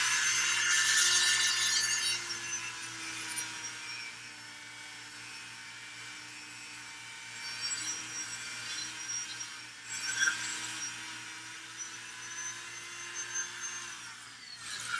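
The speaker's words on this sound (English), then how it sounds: "I can drill this hole out a lot bigger in the back." A small hobby drill bores out a hole in the back of a model piece during LED lighting work, giving a steady high whirring grind that varies in pitch and intensity over several seconds.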